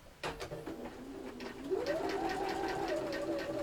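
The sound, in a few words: sewing machine stitching felt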